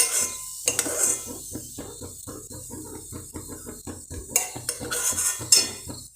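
Fried raisins are scooped out of a pan into a vessel for egg biryani, metal spoon clinking and scraping against cookware in a quick series of close knocks and rattles, with no voices.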